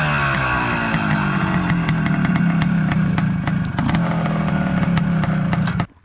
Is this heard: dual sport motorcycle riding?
yes